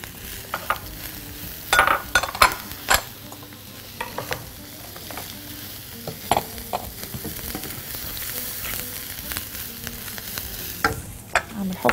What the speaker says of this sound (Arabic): احط بقى البصل